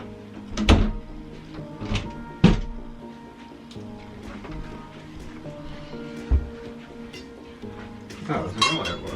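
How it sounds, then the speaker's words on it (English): A wooden cupboard door being shut during a DIY cupboard-to-wardrobe conversion, heard as several solid thunks and knocks with light rattling between them, close by, amid some talking. "Let's close this door."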